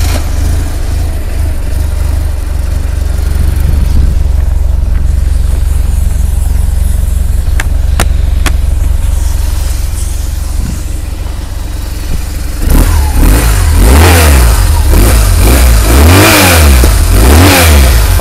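A 2009 BMW R1200GS motorcycle's air-cooled boxer engine with standard exhaust idles steadily, then from about two-thirds through is revved repeatedly in loud, rising and falling bursts, with no talk.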